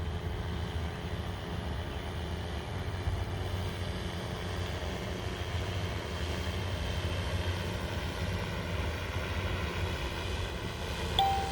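An SE8 drone flies an autonomous course carrying a 17.5 lb payload, giving a faint, distant, steady motor drone that holds unchanged throughout with no voices.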